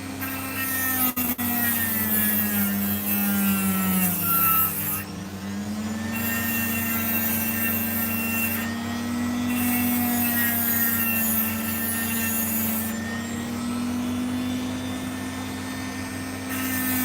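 Rough opal stone being cut and ground on a lapidary wheel, a steady loud motor whine with gritty rubbing and brief dips as the stone is lifted off, continuous and close throughout.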